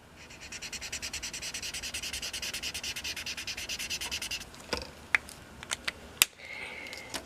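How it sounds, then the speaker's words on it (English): A yellow marker colours a section of paper in quick, rhythmic back-and-forth strokes, a soft scratchy rubbing about four per second, followed by a few isolated taps and squeaks, close and quiet. "I like to take a light color marker, so I'm using yellow, and I like to color the section"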